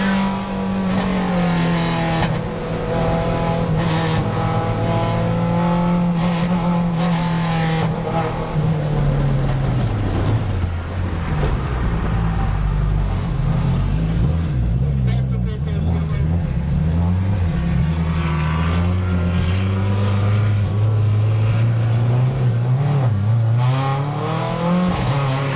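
A race car in an endurance race at Circuit of the Americas in wild wet conditions, its engine droning and rising and falling through gear changes from inside the car, loud and continuous for about 25 seconds, with voices talking over it.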